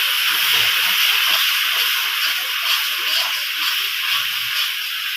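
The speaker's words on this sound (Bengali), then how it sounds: "এরপর আমি হালকা করে একটু জল দেবো মশলাটা মিশিয়ে দেওয়ার জন্য।" Water poured into tomato and chili masala frying in a pan raises a loud, steady steamy hiss and sizzle that holds evenly throughout, with no talking.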